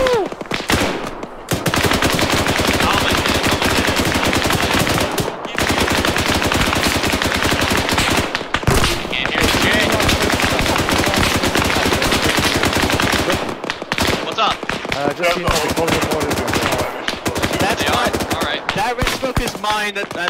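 Machine gun fire in the military shooter ARMA 3 rattles almost continuously in rapid bursts, loud and close, broken by a few brief pauses.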